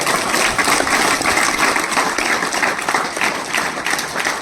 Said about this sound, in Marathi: याच्यासाठी आपण जोरदार टाळ्या वाजवायच्या.